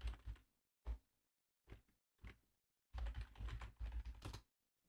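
Fingers type a password on a computer keyboard in short bursts: a few isolated key taps, then a quick run of clicks, close and quiet with no talking.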